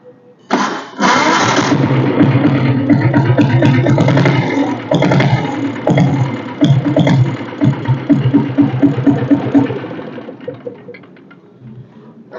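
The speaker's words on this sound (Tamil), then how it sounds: "நான் இப்போ வண்டி வந்து செல்ஃப் போட்டு காட்டுறேன் பாருங்கள்." A diesel Royal Enfield Bullet motorcycle, a vintage model, cranks with its self-starter and catches, then settles into a loud, close idle with a steady, thumping beat that eases slightly toward the end.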